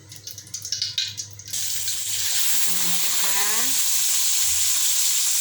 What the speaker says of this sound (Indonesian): kita tumis sampai mengharum ya bun